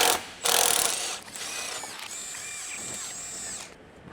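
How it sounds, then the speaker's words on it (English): An electric impact wrench with a 21mm long socket removes the rear lower control arm bushing bolt on a Jeep Patriot, giving a short rattling burst and then a longer whirring, ratcheting run before stopping. "21mm long socket and electric impact wrench, remove the rear lower control arm bushing retaining bolt."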